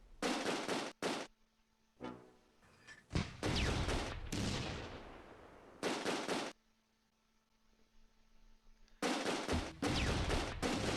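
Bursts of rifle and machine-gun fire crackle in the Close Combat II battle at Nijmegen, loud volleys cutting in and out with brief gaps and a sharper single crack midway, no voices.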